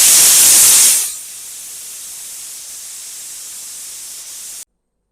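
A pressure cooker on the stove releases steam in a loud burst of hissing that drops after a second to a steady, softer hiss before stopping abruptly.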